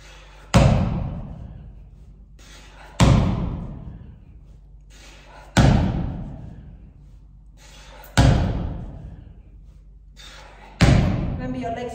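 Heavy slam-ball thuds from a cardio workout, five loud impacts spaced roughly every two and a half seconds, each with a short decaying boom, alone with no talk.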